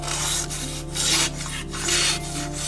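A General knife blade draws through material in repeated rasping, rubbing strokes, about three sawing passes, steady and close with no voices.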